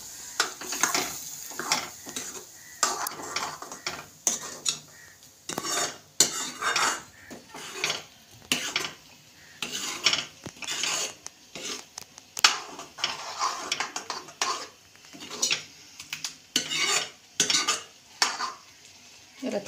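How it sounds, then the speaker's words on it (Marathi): A spatula scrapes and stirs homemade tomato bhaji with black masala in a pan, making a busy run of clattering metal strokes with only a faint sizzle underneath. "याला परत तळून घ्यायचं आहे मसाल्यासोबत"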